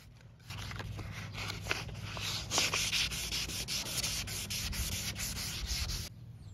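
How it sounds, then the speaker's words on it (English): Wet sanding a foggy Lincoln MKZ headlight lens by hand with 800 grit sandpaper: a steady, close scratchy rubbing of quick back-and-forth strokes lasting several seconds, then stopping abruptly, with no speech. "You can use sandpaper to remove more extreme damage to your headlights. Start with 800 grit sandpaper,"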